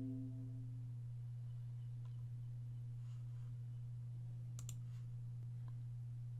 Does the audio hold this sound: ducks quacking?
no